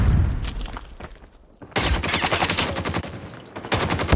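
Gunfire in the Call of Duty Mobile video game, a few scattered shots first, then two sustained bursts of rapid automatic fire, loud and close with a brief pause between them.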